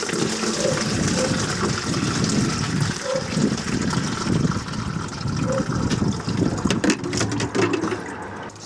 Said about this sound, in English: Still draining away down there.